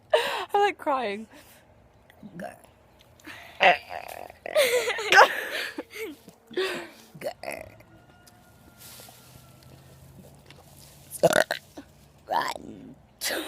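Loud belches from a person ring out close up, one after another, with giggling and chatter between them and a few quieter gaps.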